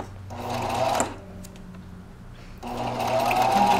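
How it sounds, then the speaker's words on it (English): Sewing machine stitching twine around the edge of a handmade card, running in two steady whirring bursts separated by a short pause, close and clear with no talk. "And then I'm going to start stitching."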